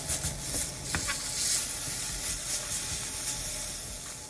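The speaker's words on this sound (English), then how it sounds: "Add our roasted garlic in the pan with a touch of olive oil, and we're going to saute and mash it at the same time" Roasted garlic sautéing in a pan with a little olive oil gives a soft, steady hiss and sizzle, with faint stirring and mashing taps close by.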